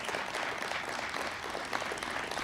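Applause from a crowd at a political speech about banning assault weapons, heard in a replayed news segment: dense, steady clapping that fills the whole stretch with no break.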